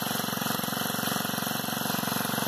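A small Honda GX25 tiller engine mounted at the rear of a motorized bicycle runs at a steady idle, a close, even buzzing putter with fast regular pulses and no voices.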